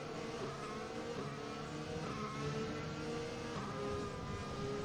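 An F1 2020 race car engine in a video game hums along behind the safety car at the Australian Grand Prix, a steady, subdued mechanical drone that holds constant throughout with no voices.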